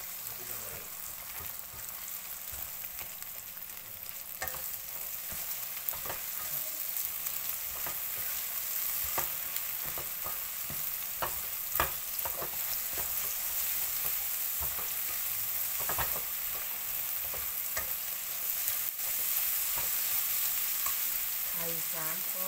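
Three eggs stir-fried with onion and tomato in a hot pan for egg fried rice: a loud, continuous sizzle with frequent spatula scrapes and taps throughout, close and unbroken.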